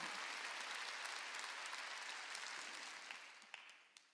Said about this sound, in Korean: 빨리 박수 치라고.